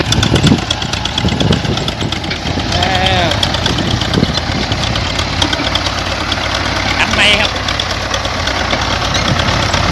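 A tractor engine idles with a rough, knocking, steady chug that fills the scene and stays loud throughout, while a person talks at times over it.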